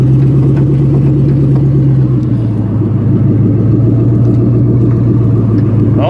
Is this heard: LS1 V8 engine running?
yes